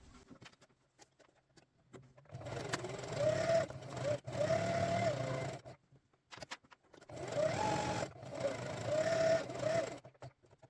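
A sewing machine runs two bursts stitching a line across the bottom of a fabric belt pouch, whirring with a rapid needle patter, close by, separated by short pauses with no talking.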